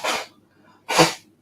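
Two quick sneezes from a person, one short and one fuller about a second later, close and clear with quiet between them.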